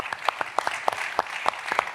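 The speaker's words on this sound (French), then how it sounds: "applaudissements pour cet énorme projet qui va vous concerner, nous concerner dans très peu de temps" Scattered applause from an audience at a presentation of the 2030 Winter Games project, a handful of sharp, uneven claps spread across a short moment, moderately close, with no voices over it.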